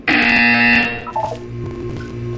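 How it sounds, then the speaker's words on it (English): A loud electronic buzzer in the video game Portal 2 blares for about a second, then gives way to quieter synthetic tones and a low hum. "You will hear a buzzer."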